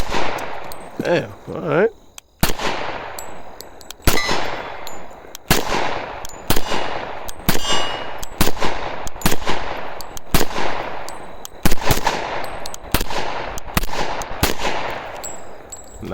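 An FNX 45 Tactical pistol fires full metal jacket rounds at a range, a string of loud, sharp, evenly spaced shots with ringing echoes and occasional metallic clinks, and someone speaks briefly near the start.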